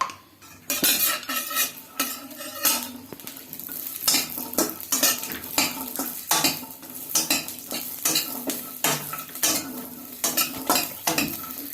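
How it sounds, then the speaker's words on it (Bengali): Dry coconut fried in ghee in a pan, stirred briskly with a utensil that scrapes and clinks rhythmically over a steady close sizzle, without any talking. "শুকনো নারকেলটাকে যদি একটুখানি ঘি দিয়ে ভেজে নেওয়া যায় তাহলে টেস্টটা খুব ভালো হয়।"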